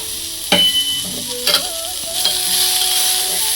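Radish and radish leaf palya being stirred in a sizzling pan, with a few distinct scrapes and clinks of the spoon over a constant soft frying hiss.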